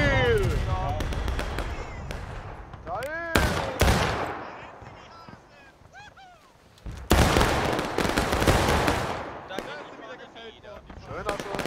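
Bursts of gunfire crack repeatedly at a shooting competition at Dunker Church, some in rapid volleys and others as single loud shots, with whistling tones and voices mixed in between.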